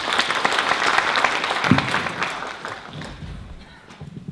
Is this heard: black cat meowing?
no